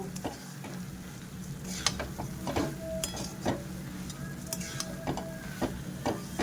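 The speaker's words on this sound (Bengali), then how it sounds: "আমি এবার এর মধ্যে তিলটা দিয়ে দিচ্ছি দিয়ে ভালো করে এর সঙ্গে মিক্স করে নেব" Sesame seeds being stirred into cooked grated coconut in a pan for til narkel naru, with soft scraping and clinking of the spoon in an irregular rhythm and a low sizzle underneath.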